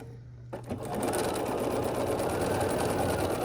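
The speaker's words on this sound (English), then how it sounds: "We're gonna sew these 2 half square triangles on the top together." A sewing machine runs steadily as two quilt half-square triangles are stitched together for a star quilt block; the close, even motor hum starts after a brief quiet moment and continues without a break.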